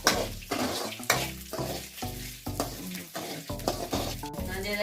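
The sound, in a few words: stirring peanuts and cashews in a frying pan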